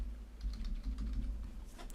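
Typing on a computer keyboard while naming a layer in Photoshop, a quiet close run of soft rapid key clicks, with no talking.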